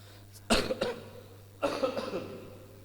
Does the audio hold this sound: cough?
yes